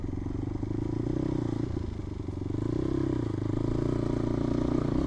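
A motorcycle engine drones steadily uphill on a road near Palanan, Isabela, with a continuous close rumble, rattles and slight shifts in pitch as the rider climbs.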